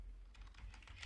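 Quiet, quick patter of keys typed on a computer keyboard, a short burst of light clicks at low level against faint background hum.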